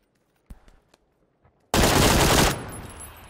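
Gunfire in the PUBG battle royale game on the Sanhok map: a few faint distant pops, then a loud, sustained automatic burst lasting under a second before fading off.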